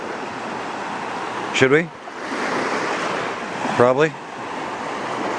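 Waves washing onto a lake beach, a steady broad wash of surf and wind noise close to the microphone, with two short spoken exchanges over it.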